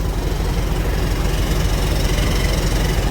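A UD truck built for hauling elephants, with 11R 22.5 tyres, idles steadily. The engine gives a loud, continuous low rumble through the exhaust, close by, with no talking.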